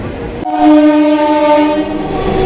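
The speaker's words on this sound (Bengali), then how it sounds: "এই দেখো ট্রেন বেরিয়ে গেল" A train departs a crowded station toward Sealdah, rumbling past with a loud, sustained horn-like tone after a sudden onset, steady rail noise continuing throughout.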